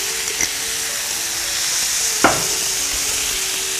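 Fried tofu balls being stirred in a wok with oyster sauce, soy sauce and cooking wine, a soft steady sizzle with a couple of distinct spatula scrapes.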